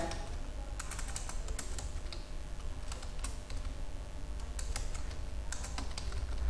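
Typing on a computer keyboard while writing a resume in MS Word, quick irregular clusters of light key clicks with brief pauses, close but fairly quiet over a steady low background hum, no voices.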